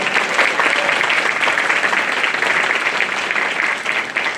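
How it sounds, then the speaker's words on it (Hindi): An audience at a Bar Council of Delhi enrolment meeting breaks into dense, sustained applause, loud and even from start to finish. "जोरदार अपने लिए तालियां"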